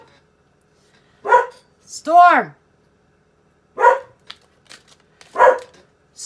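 A dog barks indoors on a windy day, three separate barks and a rising yelp spread out with quiet gaps between them. A voice calls out between the barks.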